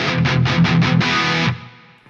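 Distorted electric guitar through a Tonex capture of a Mesa Rectifier: five quick palm-muted chugs followed by a sustained ringing chord that cuts off and fades, loud and alone.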